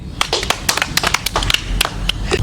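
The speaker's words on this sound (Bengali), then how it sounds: "তাহানের জন্য হাততালি।" A small group claps for a boy after a fast colour-calling game, with sharp irregular hand claps close by that form a quick, uneven burst of applause.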